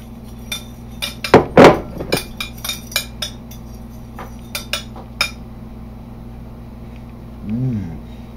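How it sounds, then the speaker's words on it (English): A metal fork stirring ingredients in a dish: a quick run of close clinks and scrapes, then a few sparser taps, with a faint voice under them. "I'm going to take my fork. I'm going to stir it all around a little."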